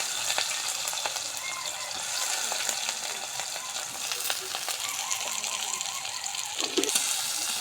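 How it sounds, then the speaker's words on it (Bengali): Chopped onion hitting hot oil already holding bay leaf, cinnamon and cardamom, a steady close sizzle and crackle with scattered pops and faint stirring, no voices. "এরপর আমরা দিয়ে দিলাম পেঁয়াজ কুচি।"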